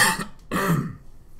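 A man gives a single harsh cough, close and loud, in two bursts separated by a short pause. No other sound is heard.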